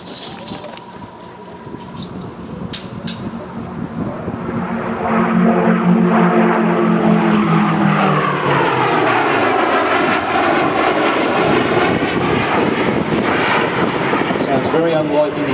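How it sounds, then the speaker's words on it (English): A Gloster Meteor jet fighter makes a flyby at Temora, New South Wales, its distinctive blue-note roar swelling to a loud, close sweep that holds steady after the first few seconds. A voice talks faintly at the start. "That noise, known as the blue note, actually comes from the cartridge and the link ejection chutes"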